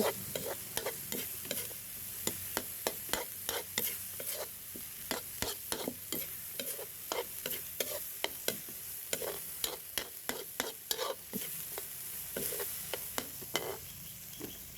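Eggs and beans are stir-fried in a pan: a spatula scrapes and taps in quick, uneven strokes over a low, continuous sizzle, close and fairly loud throughout.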